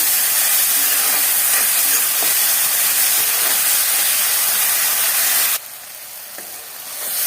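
Ginger and garlic frying with tomatoes in a pan give a steady, loud hiss of sizzling that drops suddenly to a quieter simmer near the end.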